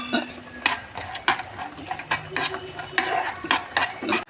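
Cashews roasting in ghee are pushed around a pan, with a quick series of sharp scraping and clicking utensil strokes over a faint background hiss.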